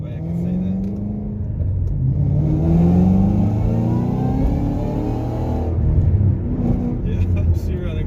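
A Shelby GT500 fitted with a VMP throttle body revs loud and near, the engine note climbing and holding before easing off, with voices talking over it.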